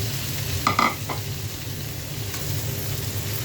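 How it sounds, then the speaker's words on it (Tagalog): Sayote and carrots drop into a pan of sautéing garlic and onion, giving a brief scraping clatter near the start over a constant close sizzle that continues evenly to the end without voices. "Sunod ay ilalagay na po natin yung ating sayote at carrots."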